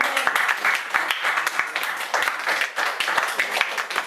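A church congregation applauding and cheering the Lord, steady rapid clapping from many hands, moderately loud and continuous with faint voices mixed in.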